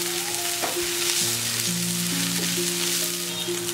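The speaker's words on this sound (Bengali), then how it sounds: "পেঁয়াজটা কিছুক্ষণ ভেজে আমি দিয়ে দিচ্ছি কাঁচামরিচ কুচি" Onion and chopped green chilli fry in oil with a dense, continuous sizzle close by, broken by faint stirring scrapes and low background tones, without any voices.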